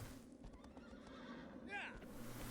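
Agro, the horse in Shadow of the Colossus, lets out one loud whinny near the end, a rising and falling cry over continuous galloping hooves and low ambient game noise.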